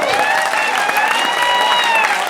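A church congregation applauds and cheers together, a dense and loud wash of clapping with rising voices that carries on steadily without a break.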